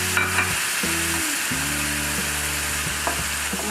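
Onion with garlic, ginger and chili fries for an Assamese fish curry, sizzling hard and continuously while a spoon stirs and scrapes the pan in a few low strokes.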